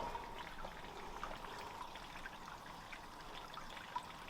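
Soft, steady trickle of water running from a hose pipe into a filter, faint splashy detail, continuous and fairly quiet, no voices.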